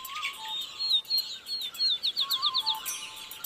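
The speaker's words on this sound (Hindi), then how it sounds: "और यहाँ सिर्फ पक्षी ही नहीं चहचहा रहे हैं।" Small birds chirp and tweet at dawn around a village in Banaskantha district, Gujarat, a fast run of high, bright notes over steady faint background hiss, fairly distant and soft, with no talking.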